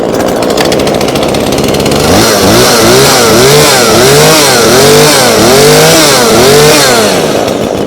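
A Neotech gas chainsaw roars loudly up close, its two-stroke engine revving up and down in repeated surges after starting, dense and continuous throughout.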